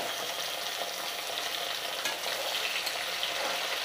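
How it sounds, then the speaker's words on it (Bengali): Chopped tomato frying with golden onions in a pan, a loud, dense, continuous sizzle with a few stirring scrapes, close up and without voices. "পেঁয়াজটা আমার ফ্রাই করা হয়ে গেছে, এবার আমি টমেটো কুচিটা দিয়ে দেব।"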